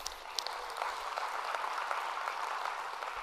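An audience claps steadily throughout, a dense, continuous wash of applause without voices.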